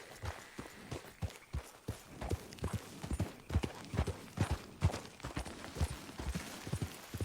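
Horse hooves clip-clop in steady trotting rhythm in the Red Dead Redemption 2 video game, a clear run of evenly spaced hoofbeats close up with no talk over them.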